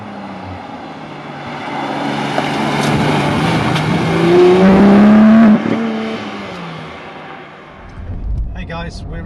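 Tyre roar fills the cabin of a Porsche GT3 driving on a road, a loud continuous rumble with engine tone swelling and easing, steady throughout with no talk.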